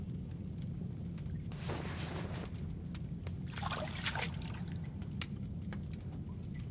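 Objects are tossed into water in the video game Alter Ego, making two bursts of splashing and gurgling over a steady low background hum.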